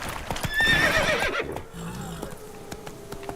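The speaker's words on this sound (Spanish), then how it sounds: "Está enfadado el caballo." In The Witcher 3 video game, a horse lets out one loud whinny near the start, followed by a few light hoof clops and quieter ambience.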